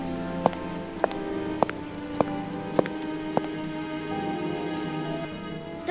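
Steady rain falls on a garden with a soft, even hiss, broken by several crisp drips or taps at regular intervals, close and fairly quiet, with no one talking.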